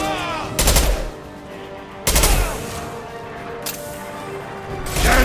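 Heavy impact-shot gunfire from the video game Mass Effect 2, two loud booming blasts about a second and a half apart followed by a third as the clip ends, with rumbling tails between shots.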